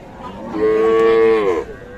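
Cattle at a busy market, with Sahiwal, Sindhi and local breeds of cows and calves, give a single loud, drawn-out moo lasting about a second, rising out of steady crowd background noise.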